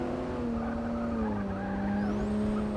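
Tires squeal steadily as a car's wheels lock under braking in a Forza race, a BMW M235i against a Holden GTS, the high whine sustained over loud engine drone throughout.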